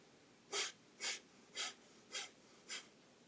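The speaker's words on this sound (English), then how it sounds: "the bliss breath is basically just a quick paced nose breath that sounds and looks something like this" Five quick, even nasal breaths, each a short sharp puff through the nose about half a second apart, close and quiet against a hushed background.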